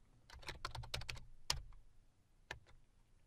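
Typing a PowerShell command on a computer keyboard: quick, close, fairly quiet key clicks in a rapid run, then a couple of isolated keystrokes after a short pause.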